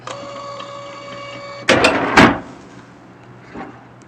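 A Matrix Point TM-P58IV thermal receipt printer whirs steadily as it prints, then a couple of sharp mechanical clacks follow as the connected cash drawer kicks open, with a faint clunk after.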